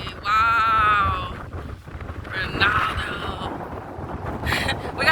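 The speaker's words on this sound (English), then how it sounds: "It is windy." Gusty wind buffets the microphone at Blue Basin Waterfall, a loud rushing roar rising and falling in waves, with excited voices of several people breaking through at times.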